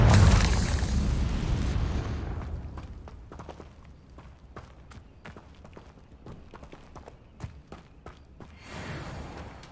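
A Confringo blasting spell goes off in Hogwarts Legacy as a big booming explosion right at the start. It fades into rumbling debris and scattered crackles and pops, with no one talking.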